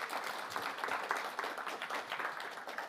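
Applause from a conference audience at a D programming language event, steady dense clapping filling the room for a few seconds, moderately loud with no talk over it.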